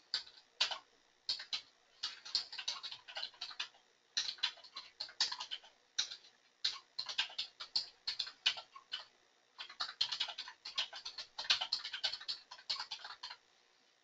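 Brisk typing on a computer keyboard during a recorded class, keystrokes clattering in quick uneven bursts with short pauses between runs, close and fairly quiet, with no talking.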